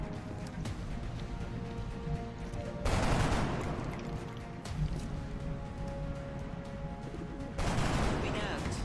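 Gunfire from the turn-based strategy game XCOM Long War, with bursts at about three, four and a half, and seven and a half seconds rising over a steady bed of game music and ambience.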